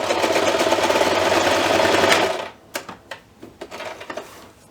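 A sewing machine stitches fabric pie bunting along a diagonal, running in a steady loud whir for about two seconds before stopping, followed by several scattered clicks and light handling taps up close, with no talking.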